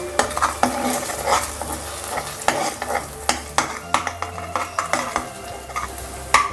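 Eggs scramble in a kadai as a spatula scrapes and taps the metal in quick, irregular strokes over a soft, steady sizzle, all close and loud.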